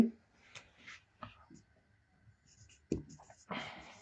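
Pen or marker writing on a surface during a Bengali English-grammar lesson, short scratchy strokes in bursts separated by pauses, close and fairly quiet, with a voice speaking intermittently.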